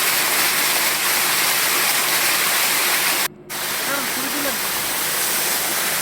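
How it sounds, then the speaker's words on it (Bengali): A small waterfall on a forest stream trail at Jhorjhori near Sitakunda pours with a continuous close roaring rush, interrupted by a brief dropout, while a voice murmurs faintly underneath. "ছোট একটা ঝর্ণা দেখলাম অচেনা ঝর্ণা নাম না জানা ঝর্ণা"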